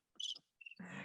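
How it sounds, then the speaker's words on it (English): Cricket chirps played as a sound effect on a podcast: two short chirping bursts in quiet, a brief higher trill, then a steady dense insect chorus fills the remainder. "Or listen to crickets."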